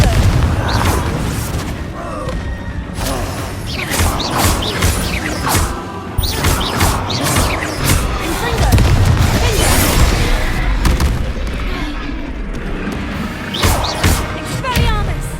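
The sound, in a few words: Confringo fire spell blast exploding in video game Hogwarts Legacy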